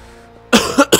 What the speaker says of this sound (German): Hust, hust.